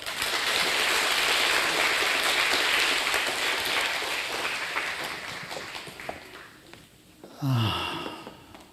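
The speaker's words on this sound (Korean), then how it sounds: "격려의 박수 부탁드립니다" Church congregation applause at a Wednesday night worship service, a dense, sustained wash of clapping that slowly fades, followed by a brief spoken voice near the end.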